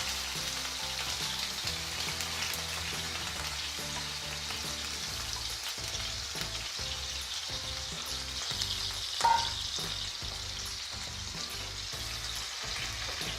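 Minced meat coated with ginger-garlic paste, turmeric and salt fries in hot oil, a steady close sizzle with frequent stirring scrapes and clinks, and one brief sharper clink near the end.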